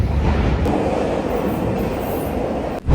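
A London Underground metro train rumbles loudly from inside the carriage, a constant roar with a high squeal on top, then a sudden drop and a jolt at the end.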